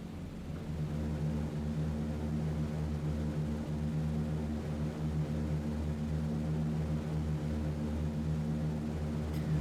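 B-17 Flying Fortress engines droning in flight in a video game, a steady, dense multi-engine propeller hum that holds constant and loud with no other sounds.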